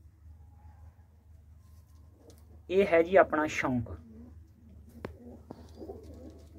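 Low pigeon coos murmur from birds sitting in a pigeon-club loft, mostly quiet and partly masked while someone talks in the middle.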